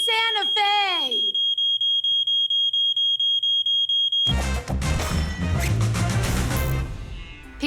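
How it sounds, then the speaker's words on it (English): A defective smoke detector chirps in a fast, steady series of short high beeps, about a dozen in three seconds, after a brief voice-like sound, then gives way to a loud burst of crashing noise. "It's a defective detector."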